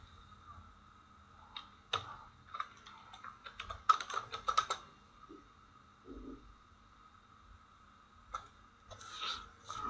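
Quiet bursts of computer keyboard typing, quick clustered key clicks separated by pauses, over a faint steady hum.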